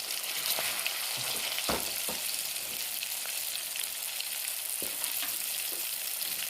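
Mangada fish pieces fry in a pan with a steady, close, crackling sizzle, marked by a few faint stirring taps against the metal, and no voices.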